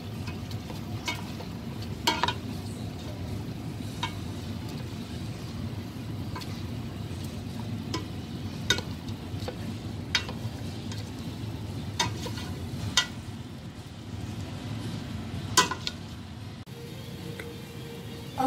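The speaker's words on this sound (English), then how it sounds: "Stir well. Let's stir well." Risotto rice with cooking wine is stirred in a pan, giving a low continuous simmering bubble with scattered spoon clicks against the pan at irregular intervals, close and moderately quiet, with no voices.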